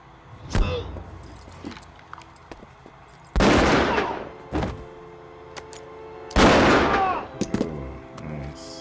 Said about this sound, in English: Damn, three shots.